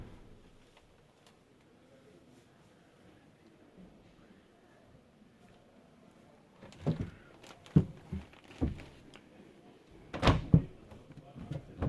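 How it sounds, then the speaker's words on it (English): Sliding door on an Ilusion 740 motorhome from Spain opening or closing, a run of sharp knocks and clunks in the second half after quiet room tone, fairly close. "Very sensible sliding door."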